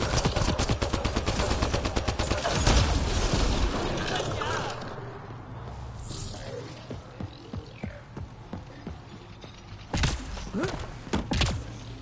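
Video game gunfire rattles in rapid automatic bursts, with mechanical clatter and a voice speaking over it, then eases into scattered single shots before a final flurry of firing.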